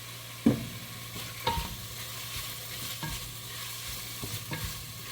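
Garlic fries in coconut oil with a low, steady sizzle, broken by a few sharp knocks and scrapes of a spoon stirring in the pan, with no talking.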